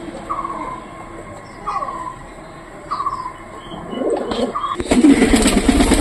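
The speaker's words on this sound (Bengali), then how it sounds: "এই যে কবুতরটা দেখতে পাচ্ছেন" A pigeon coos in a series of soft, rolling calls, close and clear over a quiet background, before a louder rumbling noise takes over at the end.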